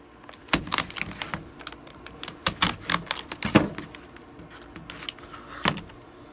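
Knife or cutter slicing open the packaging of a Bosch laser level, heard as a string of sharp close clicks, snaps and plastic crackles at irregular intervals, with no talking.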